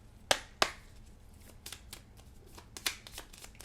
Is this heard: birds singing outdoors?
no